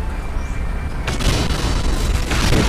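A deep boom erupts from above in the God of War video game, a loud broadband blast that swells after a low rumbling lead-in and rolls on to the end.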